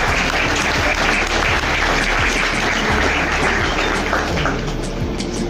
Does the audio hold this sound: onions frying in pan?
no